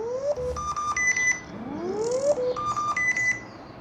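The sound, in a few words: TicWatch Pro 5 smartwatch water-eject tone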